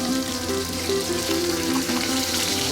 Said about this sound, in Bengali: মাছগুলো ভালো করে ভাজা হয়ে গেলে এবার আমি উল্টে দিব।